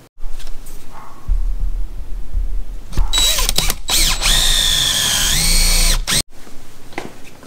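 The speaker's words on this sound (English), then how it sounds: "I'm going to drill some holes in them." A power drill bores holes in wood for carriage bolts, loud close whine rising and dropping in pitch across a few seconds, with brief stops and mechanical clicks between runs.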